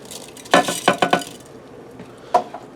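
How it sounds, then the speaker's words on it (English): Rice is dumped into a pot of boiling water and stirred, giving a few sharp metallic clinks and scrapes of a utensil against the pot, with quiet gaps between them. "I'm going to go ahead and dump my rice in."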